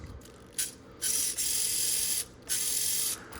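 A small 1/24-scale Capra RC crawler with a Nano motor whines through its gears in several short, high-pitched bursts that stop and start as it creeps slowly along, close and fairly quiet.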